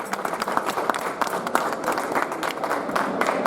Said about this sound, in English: if you wouldn't mind giving a round of applause for all of the actors who spent the last year developing it